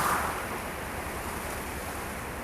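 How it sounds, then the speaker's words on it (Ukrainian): Wind blowing through trees and stripping leaves, a steady broadband rushing hiss with a slightly stronger gust at the start, continuous and moderately loud. "А зараз подув вітер і став зривати листячко з дерев."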